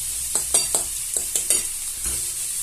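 Onions caramelizing in a frying pan for a goat cheese and walnut onion tart, a low steady sizzle broken by several sharp stirring scrapes in uneven bursts, close and with no talking.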